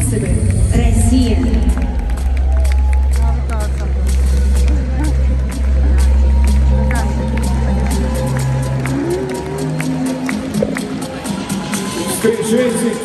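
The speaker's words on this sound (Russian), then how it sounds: "Встречайте Тима аплодисментами" At a concert at Live Arena in Moscow, held for a company's birthday event, a large audience claps and cheers continuously under booming music while an announcer speaks.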